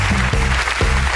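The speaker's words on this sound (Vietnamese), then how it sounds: "Vỗ tay." Studio audience applause on a Vietnamese television game show: a dense, loud wash of clapping filling the whole brief moment, with a voice faintly over it.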